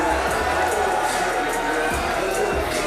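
A wrestling crowd at a NEW event in Vancouver, Canada cheers steadily in the background while a commentator talks over the continuous roar.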